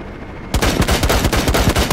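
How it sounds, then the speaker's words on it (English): Rapid automatic gunfire from the player's weapon in a first-person video game, a loud close burst of fast repeated shots starting abruptly after a brief quiet moment. "Yes, that's me shooting"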